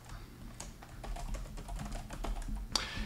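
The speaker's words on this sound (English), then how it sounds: "I'm gonna come to the recipients and I'm gonna type out Jeff's email." Someone types an email address on a computer keyboard: a quick run of close, crisp key taps at an uneven rhythm, ending in a slightly louder keystroke.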